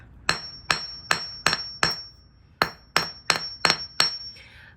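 Ten sharp hammer strikes on shrink plastic jewelry, delivered in an even rhythm with a short pause after the fifth blow, each crisp and close with a quick ringing decay, no talking.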